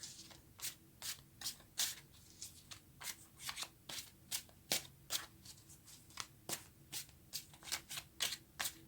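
Tarot cards being shuffled by hand, a steady run of quick, crisp riffling bursts repeating close up and fairly quiet, with no talking.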